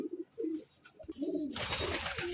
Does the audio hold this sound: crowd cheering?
no